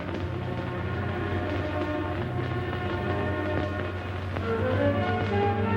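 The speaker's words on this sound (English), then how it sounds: "The subway." A steady low rumble of a subway train rolling past, with tonal hum and screeching overtones holding at a constant loudness throughout, no voices.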